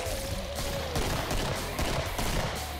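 Rapid bursts of gunfire from a video game shooter, fired through a fence, pound steadily and loudly for the whole stretch, with shots overlapping into a dense continuous fusillade.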